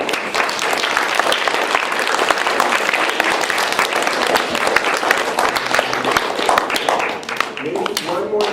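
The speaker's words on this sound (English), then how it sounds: "Thanks for the applause." A conference audience claps loudly and steadily for several seconds after a talk ends, a dense crowd applause that fades slightly near the end as a voice begins speaking.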